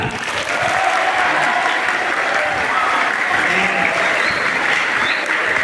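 Sustained applause from an audience at a Teacher's Day gathering at an Islamic boarding school, loud and continuous crowd clapping that holds steady from start to finish.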